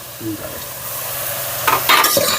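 Potatoes, peas and peanuts tipped into a hot pan for khichdi, sizzling in oil with scraping stir sounds and a few clattering bumps near the end, close up and without talk.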